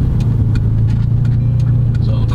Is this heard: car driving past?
yes